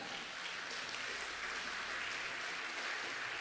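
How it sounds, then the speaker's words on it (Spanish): Congregation at a Spanish-language church service applauding for the Lord, a steady, dense wash of many hands clapping at moderate distance without a break. "¿por qué no le damos un fuerte aplauso al Señor?"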